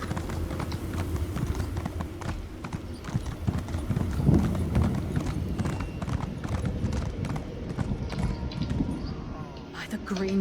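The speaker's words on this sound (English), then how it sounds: "Horses." Horses galloping in Elder Scrolls Online, a continuous rapid clatter of hooves carrying loud through the whole stretch, with a brief snort or whinny midway and game ambience beneath.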